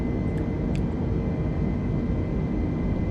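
Steady, even drone of an airliner in flight inside a flight simulator game, a continuous engine hum held at one level throughout, with no talk over it.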